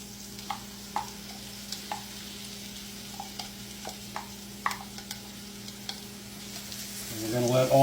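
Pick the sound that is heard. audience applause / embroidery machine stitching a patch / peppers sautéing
peppers sautéing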